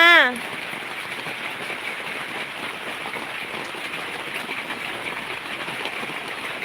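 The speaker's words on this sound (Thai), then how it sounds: "ฝนตกแล้วค่ะ" Rain pouring on potted plants outside a house, heard as a steady hiss of dense drops that runs the whole way through, after a brief sung or drawn-out vocal sound at the very start.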